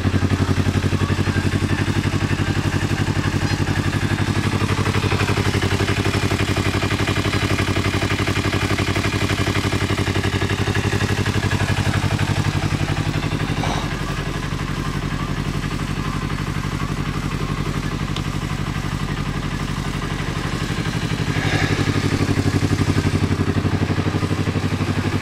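A car engine idles steadily after a cold start, a loud, close, even drone with a light clatter that holds for the whole stretch, dipping slightly in the middle before settling back, with no voices over it.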